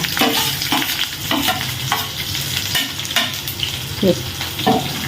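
Onions sizzle in a frying pan for a homestyle potato and tomato curry, with a steady frying hiss broken by repeated scraping strokes of a spoon stirring them.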